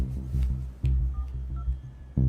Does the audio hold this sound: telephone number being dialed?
yes